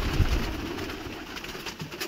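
Pigeons coo softly and low, close by, in a steady murmur of birds.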